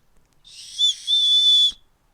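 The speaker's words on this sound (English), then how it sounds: "here's the whistle here on this side" Survival whistle built into a Leatherman Signal multi-tool, blown twice up close: a short shrill toot, then a longer steady piercing blast lasting about half a second, clean and loud against silence.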